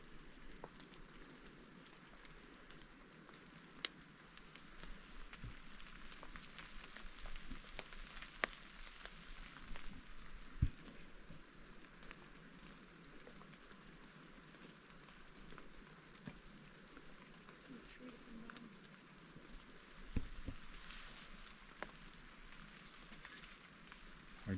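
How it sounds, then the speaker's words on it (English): Rain falling outdoors, a faint, steady hiss of drops with occasional sharper taps and patters close by, continuous and low in level over the whole stretch. "all I can hear is the rain hit my head."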